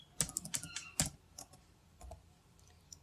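Typing on a computer keyboard while writing a LaTeX document: a short, uneven run of close, crisp key clicks, a few louder strikes standing out, with no talk.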